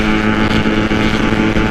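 A Yamaha RX King two-stroke motorcycle engine revs hard close by in a fast road race, a loud, raspy continuous drone with wind buffeting, no talk.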